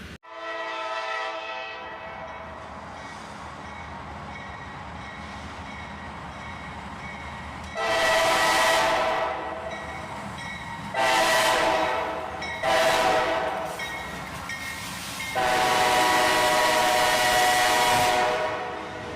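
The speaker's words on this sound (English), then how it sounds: "Another pair of GEs, this time leading a northbound steel coil train." A northbound steel coil train led by two GE locomotives rumbles past steadily while the horn sounds loud, repeated blasts, some long and some short, close by.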